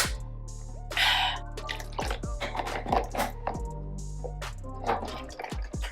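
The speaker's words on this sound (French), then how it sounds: "je mets un peu d'eau" Water poured and splashing into a container at close range, with irregular drips and liquid gurgles in short bursts over a few seconds, no talking.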